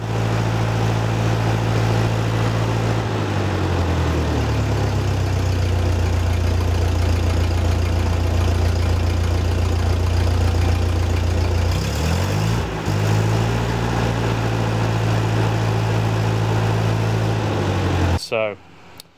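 A Ford 8N tractor engine runs steadily at low idle nearby. It dips and recovers briefly twice, and a voice speaks over part of it before the sound cuts off at the end.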